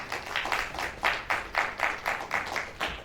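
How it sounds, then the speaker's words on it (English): Audience clapping in rhythmic bursts after a conference presentation, a fairly faint and steady patter of many hands that carries on to the end. "Let's clap for him, please."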